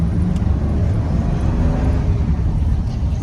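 A 1994 Chevrolet C1500 pickup with a TBI 350 V8 drives along, its engine and road rumble forming a steady, loud low drone heard from inside the cab, with no talk.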